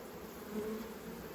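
A low, steady hum of honey bees buzzing at an open hive, faint and continuous, with no other sounds standing out.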